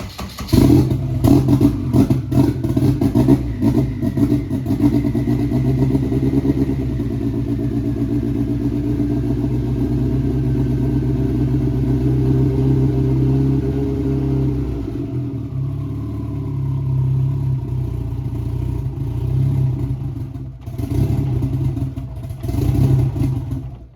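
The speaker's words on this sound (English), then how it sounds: "Give it gas. You gotta hold the throttle" An AWD Honda Civic engine held at throttle, a sustained close rasping drone with clattering, the pitch steady and then dropping away before a few short revs near the end.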